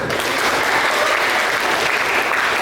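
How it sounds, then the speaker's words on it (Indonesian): An audience claps in applause at an Indonesian school gathering on Pancasila ideology, producing dense, even, sustained clapping from a crowd close by. "Kita kasih aplaus."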